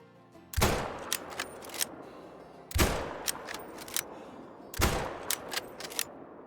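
Three loud rifle shots while hunting, evenly spaced about two seconds apart, each a sharp crack followed by a rolling echo and small clicks and clatter between them.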